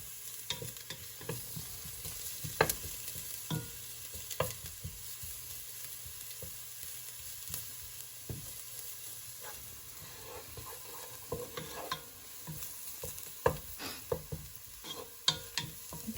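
Pork fries in a pan with browned garlic for adobo, giving a continuous soft sizzle broken by repeated scraping stirs and crackles, with no voices.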